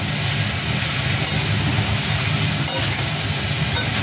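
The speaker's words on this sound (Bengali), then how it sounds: "এবার এই সয়াবিনগুলো আমি এর মধ্যে ভাজা ভাজা করব।" Boiled soybean chunks frying in a pan, a dense, continuous hiss and sizzle that stays loud and even throughout with no clear breaks.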